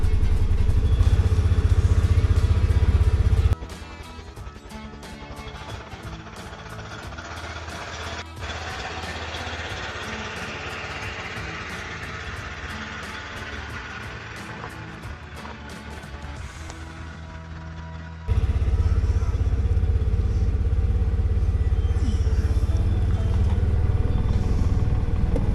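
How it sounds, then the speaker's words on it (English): Polaris 570 Ranger SP side-by-side backing out into a snowstorm, a continuous loud engine drone with rattling and clatter, shifting in tone partway through as wind and engine noise swell and ease. "We're backing out into the blizzard."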